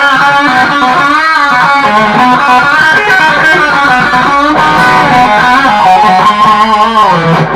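Distorted electric guitar played through the red high-gain channel of an EVH 5150 Iconic 40-watt combo amp, a continuous loud run of crunchy chords and notes with a brief break near the middle, with no talking.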